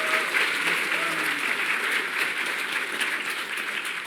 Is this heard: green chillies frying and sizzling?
no